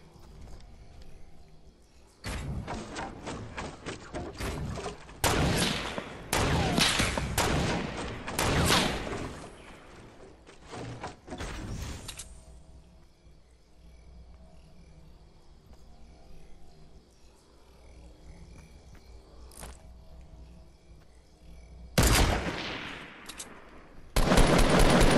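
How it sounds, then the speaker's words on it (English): Gunshots in Fortnite Battle Royale on PS4, clusters of sharp shots and rapid bursts early on, then quieter ambience before two more loud bursts near the end. "he's taking pop shots at me."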